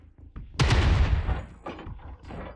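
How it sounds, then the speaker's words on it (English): A UAC-5 autocannon on a BattleTech mech lets loose a heavy, booming burst with a drawn-out rumbling tail, followed by a couple of softer thuds. "Next, fire your UAC-5."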